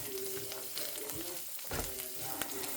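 Corn kernels cut off the cob sizzle and char in a hot pan on a stove, a steady crackling fry with a few louder pops and stirring bursts, close and continuous with no voices.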